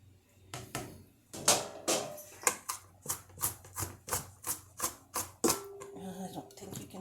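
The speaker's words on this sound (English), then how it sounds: "I'm lifting and chopping till I get about the size I want." A knife dices onion on a cutting board in a steady series of crisp, close chops, roughly two per second, with brief pauses and a faint murmur of voice near the end.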